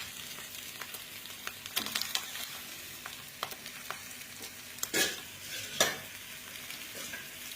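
An egg omelette fries in a pan after being flipped, giving a soft continuous sizzle broken by a few sharper scraping or stirring bursts, close and moderately quiet with no talking.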